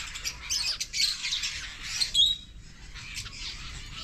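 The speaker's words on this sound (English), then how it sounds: "Oh, I like finches." Finches chirping and twittering nearby in quick, high-pitched bursts, with a steady background hiss, in Undara Volcanic National Park, Australia.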